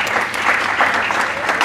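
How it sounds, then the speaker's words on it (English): Loud, close applause from students at a college scholarship orientation, a dense and even patter of many hands clapping continuously with no speech over it. "Let's clap for you."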